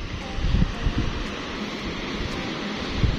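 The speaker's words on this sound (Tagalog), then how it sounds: "Pero malakas po ang hangin" Strong wind roars across the microphone outdoors on open water, a constant rushing with low buffeting gusts throughout.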